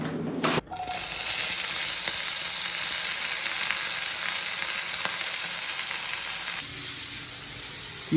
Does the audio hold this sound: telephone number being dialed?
no